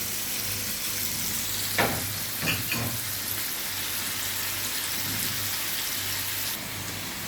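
Peppers and liver sizzle steadily as they fry in a pan, with a few louder scraping stirs around the two-to-three second mark over a continuous hiss; no one speaks.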